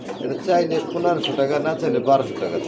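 A male magpie pigeon coos in repeated throaty, rolling phrases, close and fairly loud, with a soft rhythmic pulse across the whole stretch.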